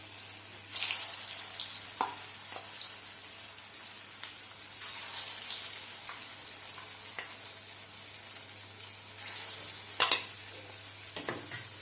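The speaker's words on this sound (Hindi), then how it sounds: "तेल गरम हो चुका है, गैस हमने थोड़ी धीमी कर दी है। अब हम इसमें एक एक करके कोफ्ते डाल देंगे।" Bottle gourd koftas fry in hot oil over a lowered gas flame, giving a continuous soft sizzle with faint stirring clinks and a short louder bubbling burst near the end, with no talking.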